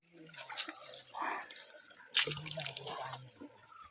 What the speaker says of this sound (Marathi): तांदूळ धुवून घेतोय किती वेळा धुवा धुवा लागतात तांदूळ